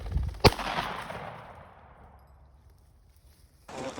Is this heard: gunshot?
yes